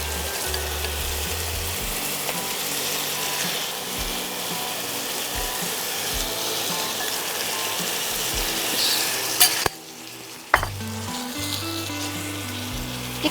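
Marinated chicken leg pieces sizzling in a hot pan while cooking shish palong chicken, a steady loud broadband frying hiss with a brief dip in the middle before resuming.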